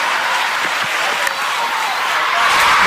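Dense crowd applause and cheering at a one-day international cricket match between Australia and South Africa, erupting as Herschel Gibbs reaches his hundred; a steady, loud wash of clapping without pause.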